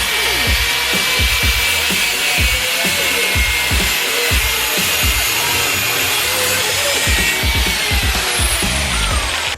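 Hand-sawing through a motorcycle exhaust pipe for a screamer pipe install, a steady rapid back-and-forth rasp of blade strokes, close and loud throughout.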